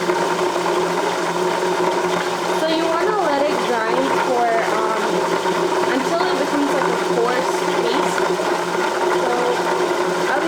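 Electric grinder working through a large load of rice for modakas, a steady continuous motorized whir with a wavering, strained tone, loud and close throughout with no talk.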